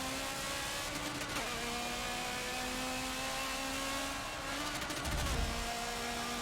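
A Nissan GT-R GT3 race car engine drones steadily in Forza 7, a continuous close motor tone that holds level and shifts slightly in pitch late on, with no talk over it.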